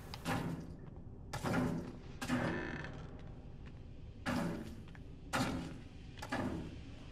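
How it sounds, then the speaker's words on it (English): Repeated heavy thuds of a video game enemy banging his head against a door in Outlast: Whistleblower, several irregular bangs spaced a second or two apart, with muffled rattling between them. "Dude's banging his head against a fucking door"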